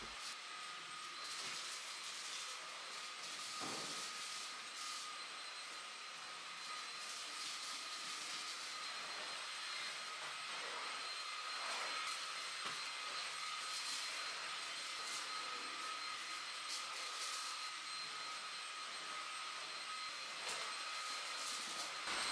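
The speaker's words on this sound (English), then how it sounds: "So I took it all around the hard floors, even managed to move some furniture out of the way, check me out, and gave the floors a really good vacuum." Household vacuum cleaner running over hard floors, a steady whining drone that continues throughout with small shifts as it moves, fairly faint and with no talking.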